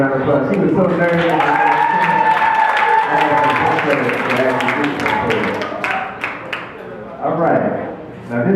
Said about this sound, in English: Y'all give her another round of applause.